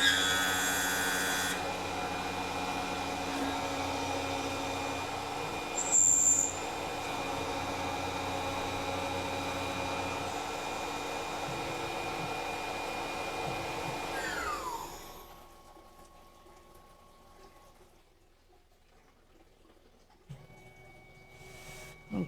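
A Tormach PCNC 1100 CNC mill runs a finish pass with a 3-flute cutter, a steady loud spindle whine and cutting drone that winds down and falls quiet about two-thirds through, then restarts briefly.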